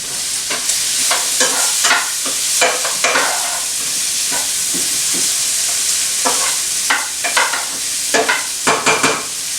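Kielbasa sausage sizzling in a pan turned down to low-medium heat, a steady crackling fry with repeated stirring scrapes that stand out alone.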